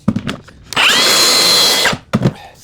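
Track saw cutting laminate strips, a loud close motor whine rising to speed and holding for about a second as the blade passes through the strip, then winding down between short knocks and handling noises.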